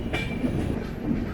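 The 16315 Mysuru - Kochuveli Express rolling near Krishnarajapuram station, a steady loud rumble of coaches with wheel clatter and a brief high squeal.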